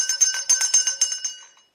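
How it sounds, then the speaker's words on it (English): A small handheld Christmas Eve bell rings in a quick series of bright, tinkling shakes, about eight jingling strikes in a steady rhythm, close and clear with no voices, fading out at the end. "to ring a bell"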